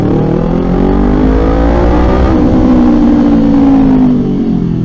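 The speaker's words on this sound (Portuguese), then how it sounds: "A gente tá recebendo um modelo novo de ponteira." A Kawasaki Ninja 400 motorcycle fitted with a Toro Performance T2 exhaust tip revs loud and close, its engine note swelling steadily and holding high without any talk.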